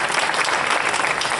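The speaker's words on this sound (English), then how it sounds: "give yourself a round of applause" An audience at a New Orleans Jazz and Heritage Festival press conference claps in a steady, dense burst, close and fairly loud throughout.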